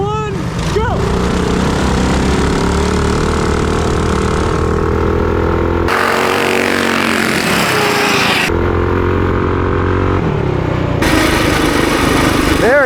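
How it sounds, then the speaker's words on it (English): Mini bikes powered by Mega Moto 212 engines drone loudly and steadily during a drag race. The near engine noise stays constant throughout, and its tone changes partway through. "the drag race was actually very interesting"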